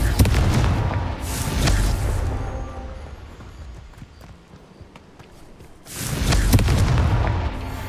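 A Confringo spell in the Hogwarts Legacy video game sets off booming blasts: a heavy low burst at the start, a second around two seconds, then a quieter stretch before another loud rumbling explosion near six seconds.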